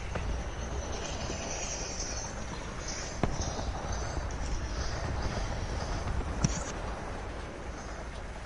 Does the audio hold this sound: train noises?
yes